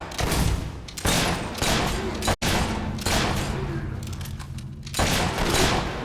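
Gunfire rattles in the video game Fable III as dense, loud bursts of shots that stop briefly and then start again.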